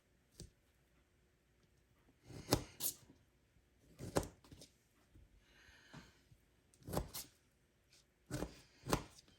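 A knife cuts fresh, slightly overripe strawberries on a board, trimming off leaf bits, giving sharp chopping knocks in irregular pairs and singles with short pauses between, close and fairly quiet.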